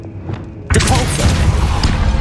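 A Depulso spell impact in the Hogwarts Legacy video game, a loud sudden boom that bursts in after a short quiet lead-in and rolls on as a dense rumbling crash.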